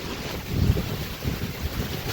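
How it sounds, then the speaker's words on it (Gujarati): Strong wind gusts during a thundery rainstorm, buffeting the microphone in a continuous rushing roar that swells and eases over a couple of seconds. "બહુ પવન છે"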